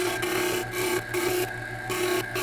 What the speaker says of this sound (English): a little cleanup on the disc grinder